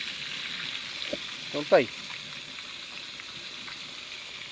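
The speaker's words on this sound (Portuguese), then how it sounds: "Tem mais peixe ainda para fritar, o Barrinha tá fritando mais 2 lá" Mandim, a smooth scaleless catfish, fries in a pan at an Amazon riverside camp, with a continuous hissing sizzle throughout and a brief voice speaking over it.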